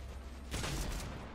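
Gunfire in the Roblox game Isle erupts suddenly partway through as a loud, dense burst of shots, then continues as a sustained rattling volley over low background noise.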